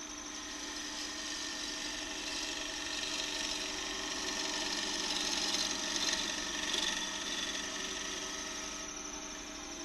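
A wood lathe turns a bowl while a turning gouge makes a steady cut, giving a continuous close, moderately loud scraping hiss that swells slightly through the middle and then eases, with no talking.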